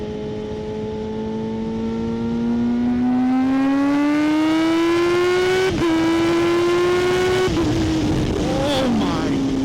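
A Kawasaki ZH2 motorcycle accelerates hard in third gear on an interstate from about 60 mph, its engine whine climbing steadily and loud, with a brief dip at each step before rising again.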